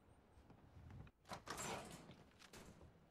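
A door sliding open in the video game Fallout 4, at the Mass Pike Interchange, gives a brief mechanical whoosh and rumble of moderate loudness with a short sharp onset, heard alone without talk.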